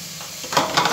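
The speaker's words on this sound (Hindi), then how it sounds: "इसको डाल के आप दो मिनट तक भूनिए।" Ground green peas sizzle and fry in a hot pan, a soft steady hiss that swells into louder crackling as the mixture is stirred, close up with no voices.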